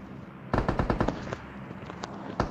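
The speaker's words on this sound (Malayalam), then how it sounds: "അതല്ലേ സ്നൈപ്പർ" Gunfire in the mobile battle-royale game PUBG Mobile, with a rapid burst of several sharp, loud shots followed by a few scattered single cracks against steady background noise.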